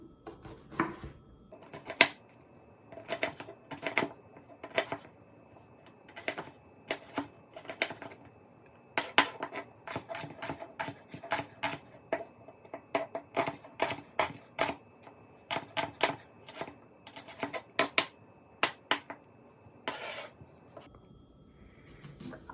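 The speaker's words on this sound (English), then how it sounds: "we're going to cut the shallot into small, thin strips" A knife cuts shallots into thin strips on a cutting board, giving a long run of crisp, close chops in irregular bursts and quick clusters with short pauses between, with no one talking.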